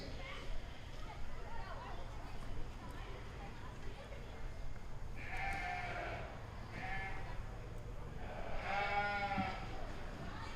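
Sheep bleating at a 4-H market lamb show in a livestock barn, two or three moderately distant bleats standing out from a constant murmur of crowd noise and an announcer's voice.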